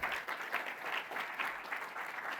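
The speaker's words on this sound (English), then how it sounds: "I ask for an applause for them." Audience applause at a legal honors event, a full, steady patter of many people clapping together, moderately distant and sustained without pause.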